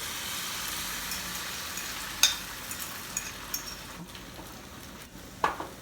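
An omelette fries in a hot pan, giving a steady, low sizzle with a few faint clicks and taps from the pan along the way.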